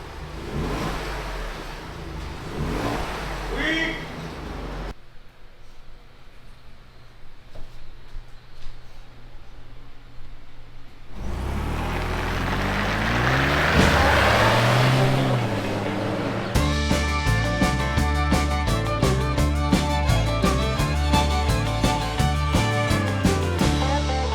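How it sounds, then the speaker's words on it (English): A 6x6 truck engine with a new aftermarket exhaust revs in bursts, with a quiet idle stretch in between, then a loud roaring rev and a rapid, throaty exhaust rumble near the microphone. "Give it a little rev."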